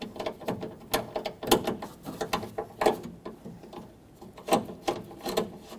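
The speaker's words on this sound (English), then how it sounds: "let's get the mounting bolts in. Get this one started and thread it on." Mounting bolts are threaded by hand into a front window regulator on a 1995-2004 Toyota Tacoma, giving a run of close, irregular metallic clicks and small ratcheting taps with brief pauses between them.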